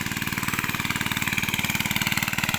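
A small engine drives a water pump draining a freshly sown rice paddy, running steadily with a fast, even chugging pulse, loud and close throughout.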